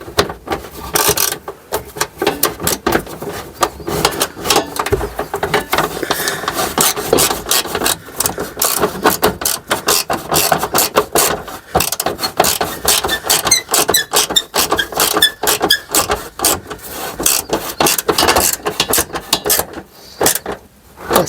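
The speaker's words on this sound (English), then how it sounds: "And now we're tightening up this plastic bolt" Plastic bolt tightened by hand under the engine area of a 2017 Mercedes-Benz E-Class W213 with a 2 L diesel, a close, loud run of squeaky, rubbing, ratcheting twists and clicks in irregular bursts, no talking.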